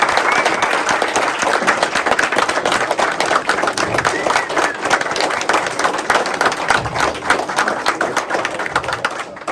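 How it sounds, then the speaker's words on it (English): An audience at a racing hall of fame induction ceremony applauds steadily, dense continuous clapping filling the room at full volume throughout, with no pause. "Let's give all of our inductees a big round of applause."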